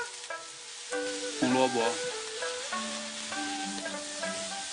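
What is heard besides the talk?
tofu stir-frying in hot oil in a wok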